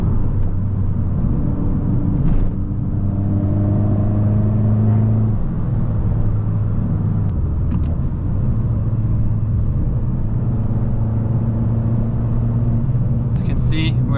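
Fiat Abarth 595 driving on country roads, a steady close engine drone with low rumbling road noise and shifting engine tones through corners, running continuously.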